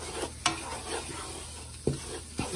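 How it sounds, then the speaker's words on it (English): Flour is stirred in a pan as the base of a ravioli sauce: a soft, faint sizzle with a few sharp scrapes and clicks of the spoon against the pan. "We're gonna stir that for a couple of minutes."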